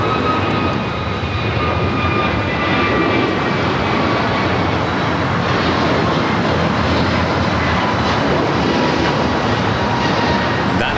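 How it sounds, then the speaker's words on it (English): A jet aircraft, an American Airlines Airbus A321neo at Los Angeles LAX, roars steadily and loudly for the whole stretch as broadband engine noise with faint whining tones, and no voices are heard. "That is American Airlines Flight 1521 heading to Miami, Florida, on an A321 Neo"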